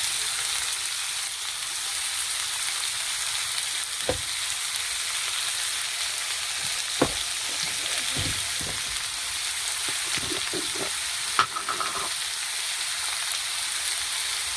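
Ground green chilies hiss and sizzle steadily in a hot pan for the whole stretch, with a few soft knocks and scrapes of stirring breaking through near the middle and end; no one speaks.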